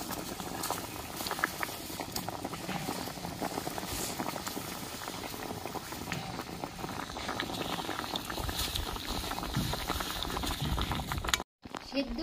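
Flat beans boil vigorously in a pot of water, a dense, steady bubbling and rolling close by, with a brief dropout near the end and no talk over it.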